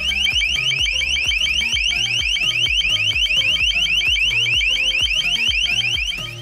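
LRAD 2000 RX long-range acoustic device sounding an alarm: a loud, rapidly repeating electronic warbling tone pulsing steadily throughout over a thudding rhythmic bed.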